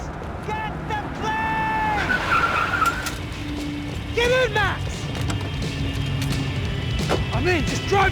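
A car in the video game Max Payne 3 skids and squeals its tires in several sharp bursts over a running engine, with voices and other game sounds mixed in.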